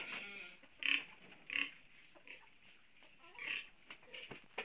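Pigs on a farm grunt and oink in several short bursts, fairly close, during feeding, with quiet gaps between calls.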